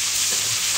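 Pork adobo fries in a pan that is not truly non-stick, giving a loud, close, dense hiss of sizzling fat and spattering oil with no talk.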